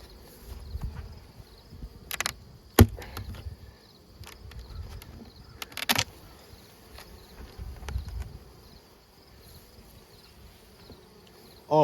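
Honeybees at an opened hive going into winter hum in a low continuous drone, near and fairly soft, broken by a few sharp clicks and knocks of handling.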